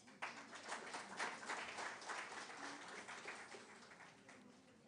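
An audience at a postgraduate management convocation applauds and cheers graduates, a dense, sustained burst of clapping from a crowd that starts sharply and tapers slightly toward the end.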